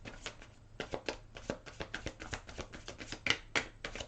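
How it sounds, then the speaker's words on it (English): A deck of glossy, slippery tarot cards gets riffled and shuffled close by, making a quick run of papery flicks and soft slaps in a steady pattern with no talking. "Let's do one more shuffle."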